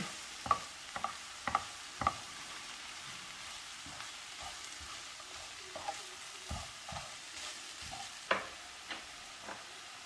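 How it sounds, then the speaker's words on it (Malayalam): Agathi (agasthi cheera) flower thoran being stirred in a pan, a run of crisp spatula scrapes and taps in an uneven rhythm over a faint background sizzle, close and fairly quiet, no voices. "ഒന്ന് മിക്സ് ചെയ്യാം."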